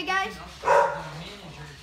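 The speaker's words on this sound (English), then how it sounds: "That was just my dog." A dog barks twice close by, with a short yip and a louder bark, inside a house; a person speaks briefly.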